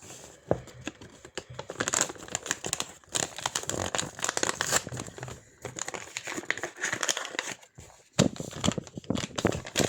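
Plastic packaging crinkles and rustles almost continuously while a Star Wars Phase 2 clone pilot model kit is unboxed, with brief pauses between close, busy handling bursts.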